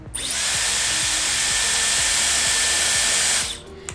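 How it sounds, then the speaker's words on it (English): A Dyson hair dryer blows with a loud, constant whooshing hum close by, running for a few seconds before cutting off. "I'll switch on the Dyson"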